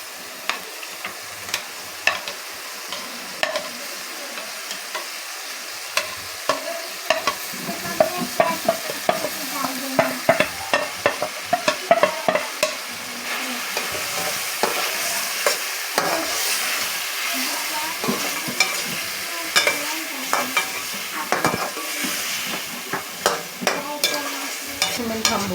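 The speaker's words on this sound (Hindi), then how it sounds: "इसको हम हरी मिर्च के साथ चिकन को पकाएंगे" Chicken fries with green chillies in a pan, a steady sizzle carrying a stream of sharp spatula scrapes and knocks as it is stirred, close and continuous for a long stretch, with no speech.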